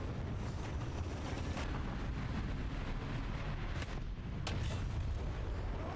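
Tank cannon fire in War Thunder, heard as a continuous heavy rumble of distant artillery with a couple of sharp blasts cutting through, no voices present.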